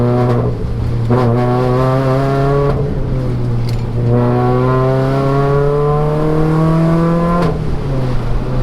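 A road-legal Renault Clio rally car engine, heard from inside, revs hard through the gears toward 7,000 rpm, rising strong harmonic drone with several gear-change dips, loud and continuous.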